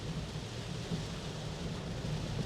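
Heavy rain drums steadily on a moving Maruti Suzuki Ertiga, with thunder rumbling low beneath it, a dense unbroken wash of noise that stays loud and even throughout.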